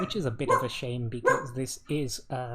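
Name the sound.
dog barking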